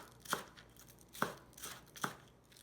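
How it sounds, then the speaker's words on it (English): A knife chops scallion on a cutting board in three crisp, evenly spaced strokes, close and distinct against a quiet background, with no talking. "I prepare the scallion for the topping"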